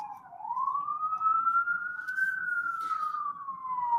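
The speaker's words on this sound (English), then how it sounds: "I'm in New York City, so y'all gonna hear sirens" A single police siren wails through New York City streets, one long rising and falling sweep, fairly loud and steady, with a faint low city rumble beneath.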